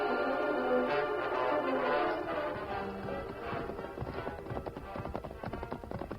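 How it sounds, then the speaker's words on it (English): Horses' hoofbeats clip-clop steadily through a radio drama as the Lone Ranger and Tonto ride their horses, a continuous galloping rhythm at moderate level with no talk over it. "In the meantime, the Lone Ranger and Tonto, mounted on their mighty horses, Scout and Silver, had easily outrun the savages."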